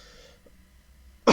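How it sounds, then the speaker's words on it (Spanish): One sharp, loud cough close to the microphone comes right at the end, after a quiet stretch of low room noise. "Perdonad, la tos y demás"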